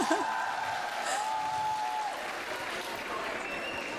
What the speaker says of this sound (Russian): Мне нравятся эти хлопки зависти.